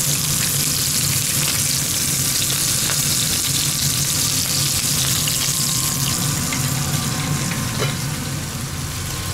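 Duck breast sizzling and frying in a pan in a galley kitchen, a loud, continuous crackling hiss that holds steady from start to finish.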